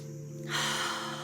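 A single deep inhalation during a guided relaxation exercise: after a half-second of near stillness, a broad airy rush of breath swells in and holds steady, close and soft, with no talking.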